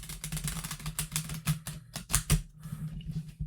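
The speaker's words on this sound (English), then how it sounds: "This is the first time I've ever used this particular deck, so I'm kind of doing the first shuffle." A brand-new tarot card deck being shuffled for the first time produces rapid, close, crisp patters and flicks of cards in an uneven rhythm, with a few sharper snaps.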